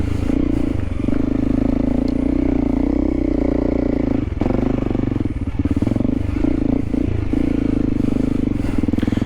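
A Honda CRF300L dual sport motorcycle climbs a hill in second gear, its single-cylinder engine droning steadily and loudly up close, with brief dips and some scraping and clatter from the terrain.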